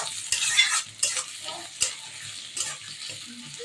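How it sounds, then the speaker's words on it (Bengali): Chopped onions sizzle steadily in hot oil while being stirred, with several sharp utensil scrapes and clicks against the pan standing out above the continuous frying hiss; no one speaks. "এখন আমরা কুচি কুচি করে পেঁয়াজগুলো দিয়ে দিব।"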